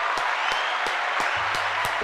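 Applause sound effect played back by a podcast host, a short burst of crowd clapping with sharp, evenly spaced claps over a dense wash of hands, loud and steady throughout.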